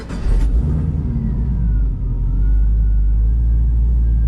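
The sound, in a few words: 1969 Firebird with swapped Camaro ZL1 LSA engine starting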